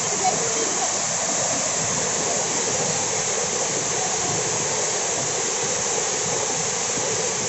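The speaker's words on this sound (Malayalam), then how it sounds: "വെള്ളം തെറിക്കുന്നുണ്ട്" A little-known waterfall in Kannur pours over rock with splashing water, a constant close roar of falling and spattering water that holds steady throughout and is fairly loud.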